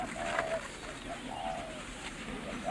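A pigeon or dove gives soft, repeated coos at a moderate distance over a steady background hiss, with no voices heard.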